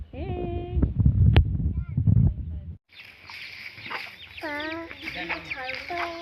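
Hens clucking in a village yard among goats, including a mother hen that hatched eight chicks; short rising clucks come in bursts near and far, with someone talking and outdoor background noise.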